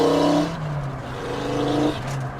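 The engine of a VW Golf Mk2 GTI swapped to a five-cylinder drones steadily from inside the car, its pitch dropping and rising again through a gear change, loud and continuous without talk.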